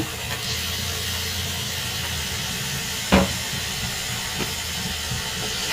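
Onion and chili paste fry in a pan, giving a steady, dense sizzling hiss throughout, with one sharp knock of a utensil partway through and no voices.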